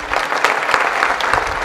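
Audience applause at a kirtan in Pandharpur during a Guru Purnima programme, a steady wash of many hands clapping at close range, dense and even throughout with no voices standing out.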